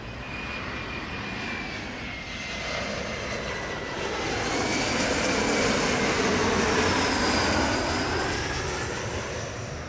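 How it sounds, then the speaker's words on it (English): A landing airplane roars past with a continuous jet whine, swelling louder in the middle and slowly fading, its pitch shifting as it goes. "We saw his airplane landing."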